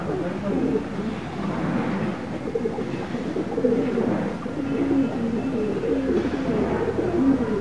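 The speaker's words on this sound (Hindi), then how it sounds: "ये सारे बांधे हुए कतरे हुए छोड़े हुए कबूतर पकड़ने के लिए छोड़े थे शबीर भाई ने।" Pigeons cooing close by in soft, repeated throaty coos, some of the birds clipped and tethered as bait for catching pigeons, with a low outdoor murmur and faint talk in the background.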